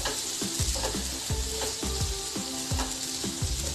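Tomatoes sautéing in a pan for masala oats, with a loud continuous sizzle and a regular rhythm of spatula scrapes and knocks against the pan, close and alone.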